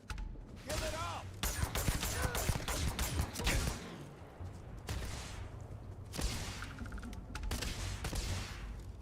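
Gunfire rattles in the space RPG Starfield as rapid bursts and single shots crackle through a busy game mix, with a voice speaking over parts of it.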